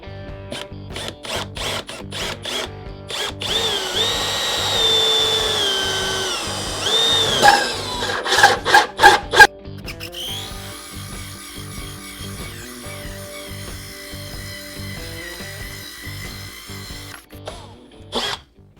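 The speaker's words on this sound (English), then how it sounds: "using a 2-inch hole saw, which is the same as the back here, I'm going to drill a hole." A 2-inch hole saw cuts through the hull of a Bayliner Element boat, with whirring drill bursts starting and stopping before a long, steady grinding cut that winds down near the end.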